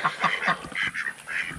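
Several close ducks quack in quick, uneven bursts, a brief flurry of nasal calls with no talking.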